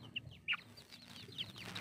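A Bangkok rooster sick with flu gives a few short clucking, rattly calls between quiet raspy breaths, close and fairly faint, with no talking over it.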